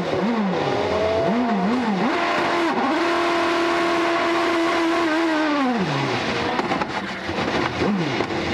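A 2008 IndyCar engine screams at high revs onboard at Watkins Glen, pitch climbing through rapid gear changes, then holding a long sustained whine before dropping and rising again.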